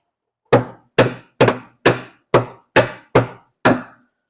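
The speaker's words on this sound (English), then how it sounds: "I'll use the hammer and dolly technique, or I'll put the trolley jack underneath it and then tap against that." A hammer striking a steel car body panel against a dolly while straightening a rusted driver's side footwell and jacking point on a Ford Sierra Sapphire Cosworth: eight sharp metallic taps at a steady rhythm, close and loud, with no talk.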